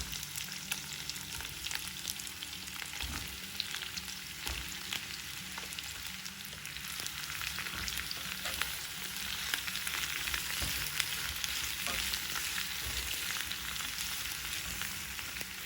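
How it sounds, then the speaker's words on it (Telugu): Radish pieces fry in a pan with a steady, fairly quiet crackling sizzle that runs without a break, with faint stirring clicks scattered through it. "ఇప్పుడు ముల్లంగిని వేసి వేయించుకుందాం"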